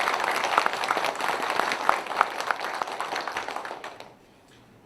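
Audience applause for a National Assembly member at a policy report meeting, a steady round of clapping from a hall crowd with a few crisp individual claps, tapering off near the end.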